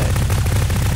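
Steady, dense gunfire in Garry's Mod, a continuous rapid rattle with a heavy low rumble, loud and unbroken for the whole moment.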